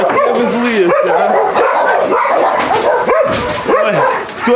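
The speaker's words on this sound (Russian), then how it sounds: "Кто тут лает?" Several dogs in kennels at a homeless animal shelter bark, yip and whine loudly and continuously nearby, overlapping in a busy chorus.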